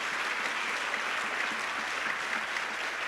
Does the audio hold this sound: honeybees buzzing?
no